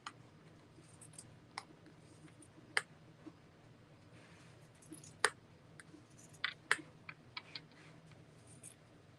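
Scissors cut along a pattern in a few faint, scattered snips and clicks over a quiet background.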